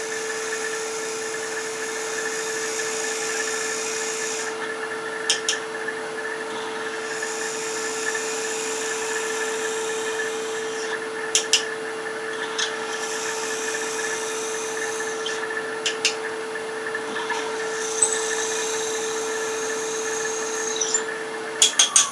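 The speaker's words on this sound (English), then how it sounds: "drilling a center hole or depth hole is not necessary" A drill motor hums steadily for the whole stretch while drilling a center hole in wood on a lathe-turned garlic keeper box, with a few sharp clicks now and then and no talking.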